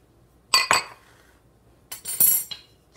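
Spoon stirring banana bread batter with beaten egg in a bowl, sharp clinks of utensil on the bowl in two clusters with a quiet gap between, no voices.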